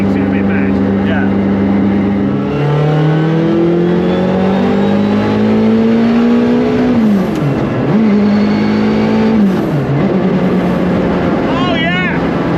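Works Lancia Delta Integrale rally car with a GT30 external-wastegate turbo, loud and close, engine note rising steadily through the gears with sharp dips at shifts, while people talk over it.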